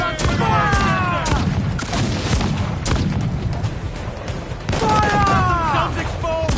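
Ship cannon fire in a naval battle in Assassin's Creed IV Black Flag: heavy booms and rumbling volleys keep rolling throughout, with shouting voices over the gunfire.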